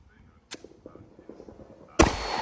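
Two loud, sharp rifle shots crack at an outdoor shooting range, well apart, with quiet talk in between.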